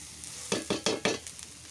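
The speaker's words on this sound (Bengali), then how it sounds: "ছাতুটা ভেজে নিচ্ছি" Mushrooms frying in a pan, heard as four quick rhythmic bursts of sizzling scrapes as they are stirred, close and moderately loud over a faint background hiss.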